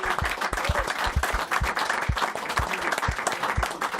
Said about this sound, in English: Round of applause for our Player of the Week